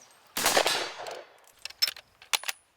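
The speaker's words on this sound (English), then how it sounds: "like Sergeant John Slaughton, who gave us a live-fire demo at the shooting range" A modern reproduction US cavalry rifle fired at an outdoor shooting range: one loud sharp report with a long echoing tail, then two shorter, quieter shots about half a second apart, with no talk.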